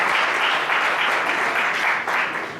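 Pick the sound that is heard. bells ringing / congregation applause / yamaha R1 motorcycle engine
congregation applause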